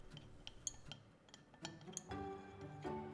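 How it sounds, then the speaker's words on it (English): Wheat starch powder stirred into water in a container, giving faint, irregular clinks and ticks of a utensil against glass, spaced across the moment with quiet gaps between them. "Now the starch powder is added to the water and stirred."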